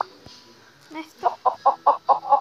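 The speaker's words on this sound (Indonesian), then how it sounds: "Woy, kaget gue ayam." A chicken in the video game Mini World gives a quick run of six or so loud, close clucks in steady rhythm, preceded by softer game sounds.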